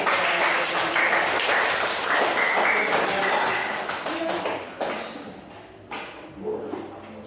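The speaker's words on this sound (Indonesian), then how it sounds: "kita berikan aplaus untuk kelompok pisang" Pupils in an elementary school classroom applaud a student group after its presentation, a dense burst of clapping that fills the room and then thins and fades toward the end.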